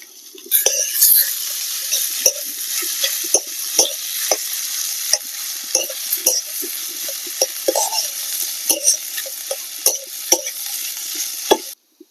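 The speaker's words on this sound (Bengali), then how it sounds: "আলুর পুরটা আমি ততক্ষণ ভাজবো যতক্ষণ না কড়াই থেকে এরকম ভাবে ছেড়ে দিচ্ছে" Spiced potato filling fries in a wok for stuffed chilli pakoras, a steady close sizzle broken by frequent sharp spatula scrapes and knocks against the metal as it is stirred.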